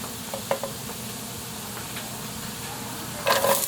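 Onion and tomato go into a pan of browned garlic with a steady low sizzle, a few scraping stirs early on, and a louder burst of frying near the end.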